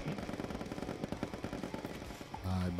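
Rapid gunfire rattles in quick bursts in the video game Pummel Party, fairly faint and dense, ending with a brief lower engine-like tone, with voices talking alongside.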